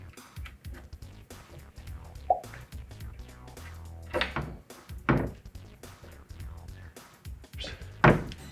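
A hidden door from a quick-install kit is lifted and slid into its frame, producing scattered wooden knocks, scrapes and thuds at an uneven pace, close by and moderately loud, with no speech.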